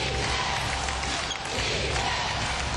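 A packed basketball arena crowd of 11,000 at the 2010 WNBA Finals Game 3, Seattle Storm at Atlanta Dream in Atlanta, roars and cheers. The loud, dense crowd noise holds steady for the whole stretch.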